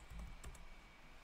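Keys clatter on a computer keyboard at a desk, a short quick burst of several taps up close, alone with no talk.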